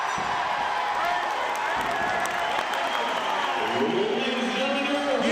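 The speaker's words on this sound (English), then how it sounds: "Jubilation from the crowd right now" A wrestling crowd cheering and clapping after a win in an indie match, a steady loud roar that holds throughout with scattered shouts and no clear words.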